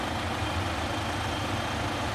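A car engine rumbles steadily at close range, a low continuous drone with no break and no voices.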